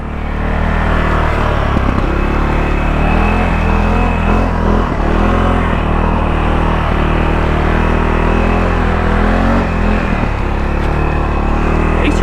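A CFORCE 600 ATV engine drones loud and steady while the four-wheeler rides over bumpy, muddy trails, its rumble continuous with small surges in throttle throughout.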